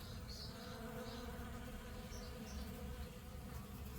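Bees buzzing around a working hive outdoors, a steady, dense drone of many insects close by that holds for the whole stretch with no talk.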